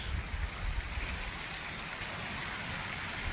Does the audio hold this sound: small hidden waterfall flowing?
yes